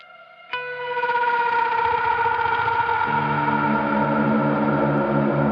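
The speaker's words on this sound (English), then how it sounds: "I'm gonna put some big reverb at the end of this." Sustained electric guitar chords with heavy effects ring out after a sharp attack, washed in a long, big reverb tail that keeps the sound full throughout.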